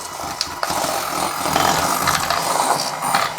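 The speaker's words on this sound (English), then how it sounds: "I'm just going to use this hand whisk" A small hand whisk frothing oat milk, giving a steady, loud, close buzzing whir with a gritty rattling texture that runs without pause.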